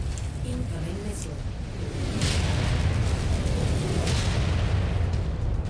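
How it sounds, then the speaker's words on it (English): Incoming missile explosions in MechWarrior 5, a thick roaring rumble of blasts that swells louder partway through and stays dense, with a voice speaking early on. "Incoming missile."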